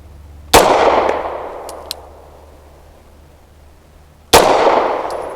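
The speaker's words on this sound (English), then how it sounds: "I'm shooting at the left circle square." Two sharp, loud pistol shots from a Tisas B9R 1911 Carry DS at a shooting range, spaced nearly four seconds apart, each with a ringing decay and a faint metallic clink between them.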